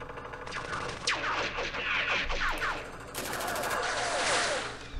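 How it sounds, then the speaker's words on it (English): Sustained, crackling machine-gun fire in the wargame Campaign Series Middle East, near and loud, with dense rattling bursts continuing throughout without pause. "let's fire at them with our machine guns"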